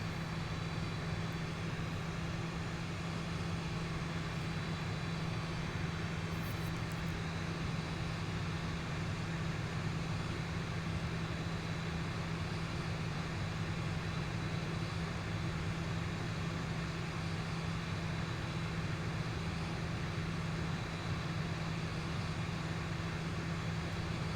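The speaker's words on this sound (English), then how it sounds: "Oh, he's doing an intersection takeoff, I see, okay. Yeah, he's a prop, he could do that." A propeller aircraft in the X-Plane 11 flight simulator making an intersection takeoff, heard as a steady, droning engine hum with a constant low tone, even and unchanging in loudness throughout.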